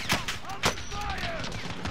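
Gunfire in Call of Duty: Modern Warfare, with sharp close bursts of automatic fire, two loud volleys and scattered shots, mixed with game sounds and faint voices.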